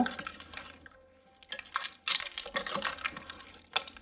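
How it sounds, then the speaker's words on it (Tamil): Ice cubes stirred with a spoon in fresh fruit juice, bright clinks and rattles in irregular bursts, close and fairly quiet, with short pauses between stirs. "ஒரு கப்பு ஐஸ் கியூப் வந்து நம்ம சேர்த்துக்கலாம் சேர்த்து கரண்டியை வச்சு நல்லா மிக்ஸ் பண்ணி விட்டுக்கோங்க"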